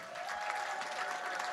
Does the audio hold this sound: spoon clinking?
no